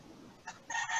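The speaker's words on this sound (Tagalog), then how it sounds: "Uy, may pabo." Gobbling from a turkey somewhere in the background, heard as a couple of brief, faint fowl calls that grow slightly louder toward the end.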